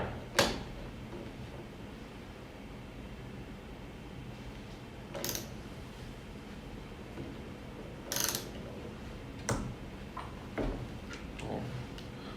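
A torque wrench being turned on an MWR Kit PF6000 tester gives several sharp, isolated clicks spaced a few seconds apart over a steady low background hum.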